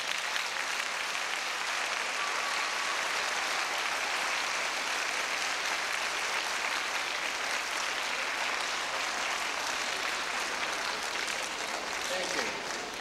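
Sustained applause from a large crowd fills the whole stretch, a dense steady roar of clapping with no pauses.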